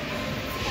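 Metro train running at a subway station, a steady dense rumble of wheels and car noise that continues throughout at moderate loudness, with faint voices mixed in.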